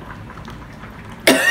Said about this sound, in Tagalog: Naubo ako kasi I forgot.